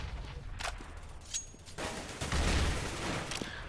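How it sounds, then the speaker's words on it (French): Gunfire and a grenade in a professional Counter-Strike: Global Offensive match, a burst of shots followed by a louder, broad blast-like stretch of continuous firing, fairly close and without speech over it. "premier kill à la grenade de Denis sur JW"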